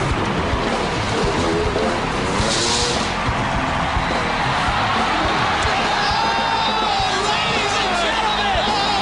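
A packed arena crowd at a 2005 freestyle motocross event in the Staples Center roars and cheers without pause, with whoops and rising yells in a dense sustained wash of noise, along with announcer talk.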